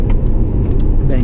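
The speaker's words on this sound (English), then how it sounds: "you definitely does from first to second gear bang shifts" Lexus RC F engine under hard acceleration with a quick bang shift from first to second gear, a loud close low rumble from inside the car with a voice talking over it.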